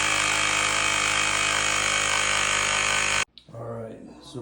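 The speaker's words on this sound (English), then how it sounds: "we just charged the air compressor" An air-compressed toilet plunger being charged, a loud steady mechanical hum that cuts off sharply, followed by someone talking.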